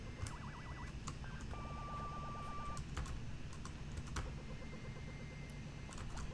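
A bright, high-pitched synth lead warbles and wobbles with odd, wobbly frequency-modulated tones over a steady background layer, sounding erratic and strange.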